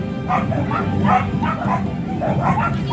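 Dogs barking and yipping at a SuperDogs performance show at a fall fair, a steady run of overlapping yaps and whimpers amid crowd noise.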